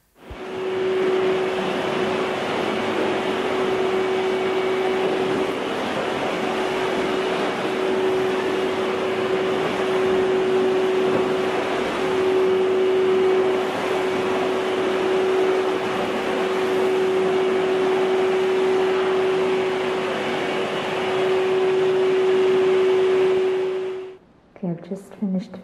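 Vacuum cleaner running steadily over an old wood floor in a French country home under renovation, a constant loud drone with a sustained tonal whine that holds for about 24 seconds before cutting off abruptly.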